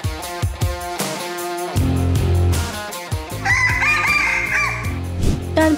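Rooster crowing at a native chicken contest held at an agricultural fair, several loud, long drawn-out crows overlapping one another close by, with clucking and no talk.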